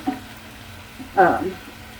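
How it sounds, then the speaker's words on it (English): Lentils drop into a pot for lentil soup, making a short soft rattle and splash that rises briefly above a quiet, low background hiss. "now you can go ahead and put in the lentils"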